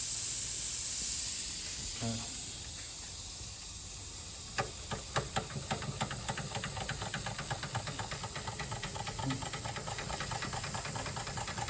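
Steam hisses from a leak on a Doll 364 steam engine during a test run. A loud hiss at first fades, then the engine starts a rapid rhythmic chuffing with the leak hissing beneath it.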